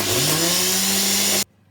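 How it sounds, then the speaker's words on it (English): A Home TK hand blender crushing fruit wheats cereal whirs loudly with a steady high motor whine for about a second and a half, then cuts off abruptly into near silence. "I'm going to blend them using my Home TK hand blender"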